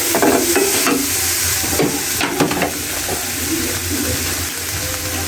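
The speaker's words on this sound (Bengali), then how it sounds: "মানে এগুলোকে একসঙ্গে করে নেড়ে আস্তে আস্তে ভেজে নেব" Figs stirred and slowly fried in a pan with salt, an even sizzle broken by repeated scraping stirs of a spatula, close and fairly loud.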